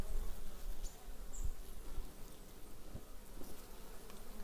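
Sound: honeybees buzzing as they fly out of the hive

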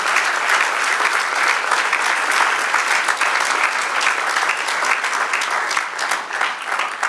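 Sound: congregation applause

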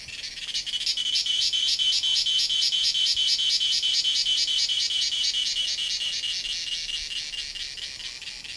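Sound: chorus of cicadas

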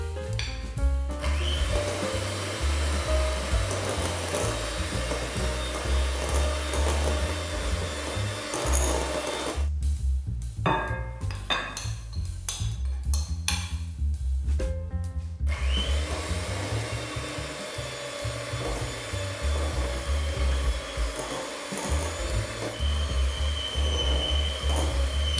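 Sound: mixing dry ingredients into egg mixture for peanut butter cake

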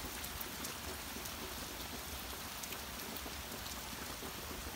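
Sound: heavy rain falling

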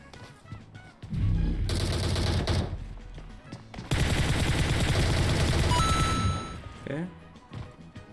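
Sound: gunfire shooting at a decoy in PUBG Mobile video game

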